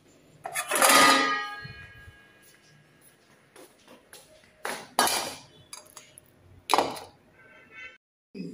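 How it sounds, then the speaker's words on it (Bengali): Metal plates, pots and kitchen utensils are handled and set down in a home kitchen, sharp clattering bursts and clinks spaced out over several seconds with quiet pauses between them. "কতগুলো থালা বাসন, এই যে থালা বাসন দিলাম"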